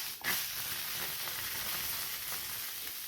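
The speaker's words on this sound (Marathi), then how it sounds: "ह्या शेंगा टाकलेल्या आहेत आणि आता आपल्याला याला असं भाजून घ्यायचं आहे" Guar beans (cluster beans) roasting dry in a pan without water, giving a steady, close sizzling hiss with a brief stir near the start and no talking.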